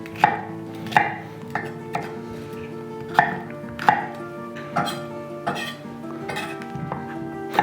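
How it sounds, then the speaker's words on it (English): A knife chops peppers into bite-sized pieces for a curry chicken dish, with sharp, evenly spaced strikes on a board close by, about one every second, alone with no talk. "We're gonna cut up the peppers in the same way, just into bite-sized pieces."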